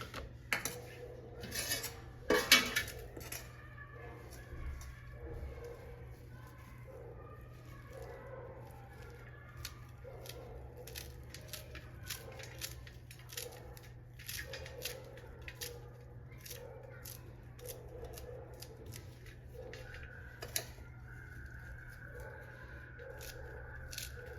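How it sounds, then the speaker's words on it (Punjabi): A knife finely chops fresh coriander on a board in a home kitchen, giving a long run of quick, light, close taps with a steady hum underneath and a few louder knocks near the start. "ਹੁਣ ਆਪਾਂ ਧਨੀਆ ਵੀ ਇਸ ਤਰ੍ਹਾਂ ਹੀ ਕੱਟ ਲਾਂਗੇ ਧਨੀਆ ਵੀ ਬਰੀਕ ਕੱਟ ਲੈਣੇ"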